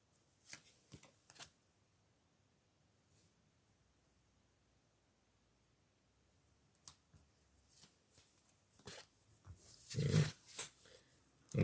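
Tarot cards are shuffled and drawn by hand, with scattered soft flicks and riffles that build into a brief louder burst of shuffling near the end, alone in a quiet room.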